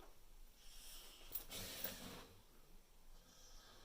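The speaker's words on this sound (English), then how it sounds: "That's my dog snoring." A dog snoring while half asleep indoors, two soft breathy snorts in quick succession over a faint hiss, close but quiet, with no voices.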